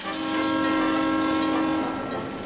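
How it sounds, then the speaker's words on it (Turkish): A train in an animated children's cartoon sounds a long, loud steady horn blast as it passes, fading slightly at the end. "Birazdan trenin geçeceğini söylüyor."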